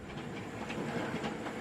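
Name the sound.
model railway locomotive running on track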